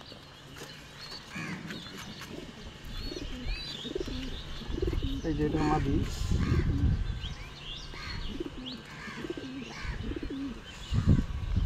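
Shapla black pigeons coo repeatedly in a loft, soft throaty calls close by mixed with a few chirps, while someone speaks briefly partway through.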